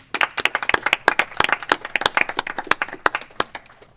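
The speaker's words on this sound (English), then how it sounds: "I'd like to give them a round of applause and make them welcome." Committee members and attendees at a Senate agriculture committee hearing give agribusiness guests a round of applause, sharp, close hand claps in an irregular, fairly sparse patter lasting a few seconds.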